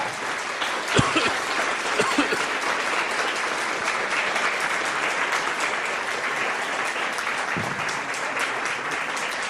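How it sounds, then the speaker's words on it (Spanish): Sustained congregation applause in a church fills the space, dense and steady throughout with a few sharper claps standing out early on. "Dale ese aplauso al Señor como Él lo merece."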